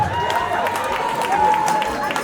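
Audience applause at a live French-language talk, a steady dense wash of clapping and crowd noise with some voices mixed in, lasting throughout at moderate loudness.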